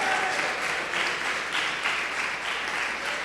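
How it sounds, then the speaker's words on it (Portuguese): A church congregation claps steadily in worship to glorify Jesus Christ, a dense and continuous roomful of applause with a gentle pulsing rhythm and no talking. "Pode aplaudir e glorificar"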